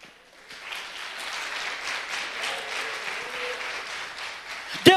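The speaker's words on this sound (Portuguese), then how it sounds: "Pode aplaudir a Jesus." A church congregation breaks into steady applause for Jesus during a sermon, a dense, even wash of clapping that begins abruptly, holds for several seconds and ends on a sharp louder clap or knock.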